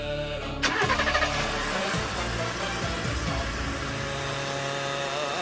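A car engine cranks, catches, and settles into a loud, steady running drone close by.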